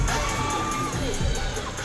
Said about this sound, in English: A lot of support from the crowd.